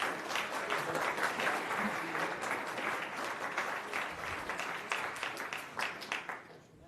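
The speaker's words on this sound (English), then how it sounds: "Let's give them all a round of applause." A school board meeting audience applauds in a long, dense burst of clapping that fills the room for several seconds, then thins out and fades toward the end.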